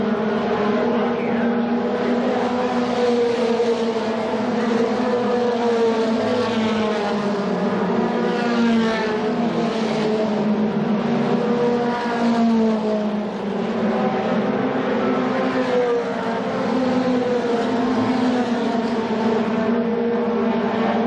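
Race cars roar side by side down the back straightaway at Winchester Speedway, a loud, continuous engine howl that rises and falls as the pack passes, with no talk over it.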